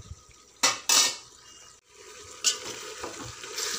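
Metal spoon scraping and clanking in a pot while mutton is mixed with salt, chilli and turmeric, a few loud knocks and scrapes over a soft sizzle, no voices.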